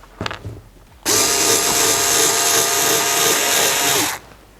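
INTERTOOL WT-0300 cordless shears cut through soft fabric, a steady high-pitched motor whine that starts abruptly after a brief knock, runs evenly for about three seconds, then cuts off.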